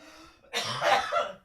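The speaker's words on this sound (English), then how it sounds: "You made me laugh too hard. I coughed." One person gives a short, rough cough burst that lasts about a second, close and fairly loud, after a breathy lead-in that rises out of a quiet room, with no talking over it.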